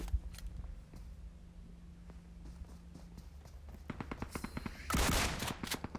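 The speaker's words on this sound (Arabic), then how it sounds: "سمعت واحد بش علي فطلعت له بالشتقن" Gunfire in the PUBG Mobile battle royale game, with a shotgun among the shots: scattered footstep-like thuds and clicks build into a dense, loud burst of close shots near the end.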